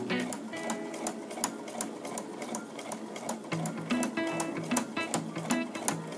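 A sewing machine stitches bias binding onto a fabric pot-lid holder, a quiet rapid run of needle clicks that stays steady and continuous with no voices.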